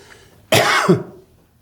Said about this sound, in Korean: 자꾸 기침이 나오네, 저도.